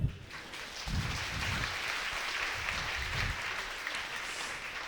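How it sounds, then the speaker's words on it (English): An audience applauds a guest named Andy at a live show, a dense, steady wash of clapping that begins almost at once and holds at an even level for several seconds. "round of applause for Andy"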